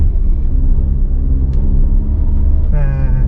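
A Toyota Veloz accelerates hard during a traction control test, a deep steady engine rumble close and loud, ending in a rising whine, with people talking over it.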